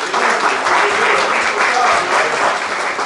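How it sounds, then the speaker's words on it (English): A church congregation at a Christmas Eve service applauds a liturgical dance with full, steady clapping that fills the room evenly and stays loud for the whole stretch. "Let's give a hand clap, praise for the"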